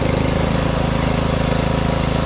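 A lawn mower engine runs steadily up close with a rapid, even pulsing chug, loud and unbroken throughout, with no clear stop of the deck.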